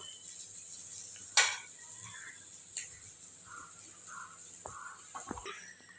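Egg fried rice stirred slowly in a pan over low flame: a steady frying hiss with soft scraping strokes and one sharp clink of the utensil against the pan, close and with no talk.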